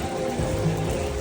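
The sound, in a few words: rainfall in Laos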